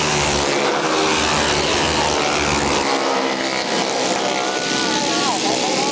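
Flathead Limited Modified racing karts roar along a kart track, engines buzzing loudly and shifting pitch as they pass, under excited race commentary.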